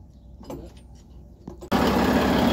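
A Volvo A40F articulated dump truck with a D16F engine and water in its fuel turns over and bursts into a loud, dense, steady running roar after a few quieter thumps and clatters.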